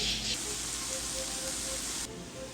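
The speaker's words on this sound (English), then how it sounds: "Now I'm gonna saute this for about 20 minutes." Greens sautéing in oil in a large soup pot for a Persian stew, a steady broadband sizzle and hiss running throughout, fairly close, with a brief quieter drop near the end.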